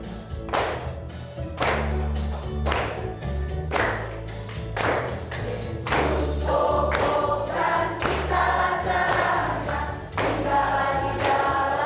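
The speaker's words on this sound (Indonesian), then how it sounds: "Boleh sambil tepuk tangan." A class of students stands and claps their hands in a steady beat along to a hymn, sharp, regular claps with sung music and a low accompaniment beneath, continuing for about twelve seconds.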